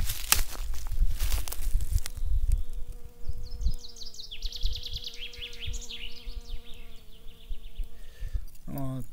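Honey bees from a weak colony in a cold spring buzz around the hive while gathering pollen, a close, continuous drone with intermittent handling noises and some brief rustling.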